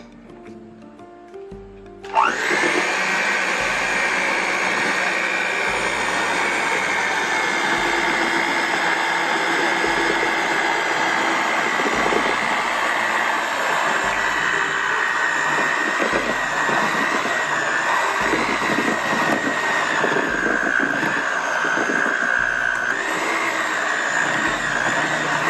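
An electric mixer starts abruptly and runs at a loud, steady drone through thick red velvet cheesecake batter in a home kitchen, whirring on without pause and without talk.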